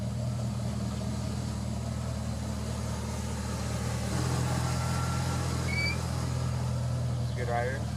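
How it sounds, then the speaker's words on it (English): A Chevrolet C10 squarebody pickup truck idles and backs out of a driveway, a steady close engine drone throughout with a slight shift midway, while someone talks over it. "he can't back his own truck out of the driveway"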